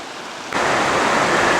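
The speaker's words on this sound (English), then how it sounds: "another stream is coming down the mountain and flowing into" A mountain stream pours into a creek near a small footbridge at Seven Tubs Nature Area, Pennsylvania, a loud broadband rush of water that cuts in abruptly after a quieter moment and then holds steady.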